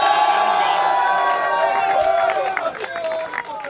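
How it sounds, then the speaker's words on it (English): Arena crowd at The International Dota 2 grand final cheering, whooping and applauding for the champions, loud and dense at first, then thinning into scattered claps and shouts. "can we get one more round of applause for your TI champs?"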